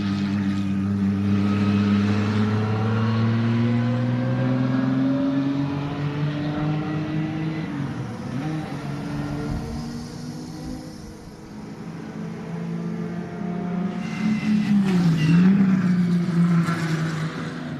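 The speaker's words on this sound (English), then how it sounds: "What would a Dodge Intrepid sound like if we put headers on it and ran it full throttle?" A Dodge Intrepid fitted with headers runs at full throttle at the American Speed Festival. Its loud, steady engine note holds strong harmonics, shifts pitch through the middle and surges again near the end, with no talk over it.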